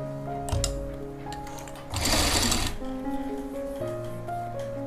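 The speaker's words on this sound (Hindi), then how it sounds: "जमा नुक्कर ते सिलाई लाउणी आ आपां ने" Sewing machine stitching a jacket (koti) for a frock or kurti, several short motor runs with a steady hum and a louder burst of rapid stitching in the middle, up close.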